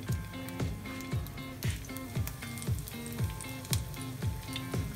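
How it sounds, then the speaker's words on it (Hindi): Bread potato sticks shallow frying in a little oil in a frying pan, a steady close sizzle broken by regular soft pops and spatters every half second or so, with no voices. "शैलो फ्राई करेंगे"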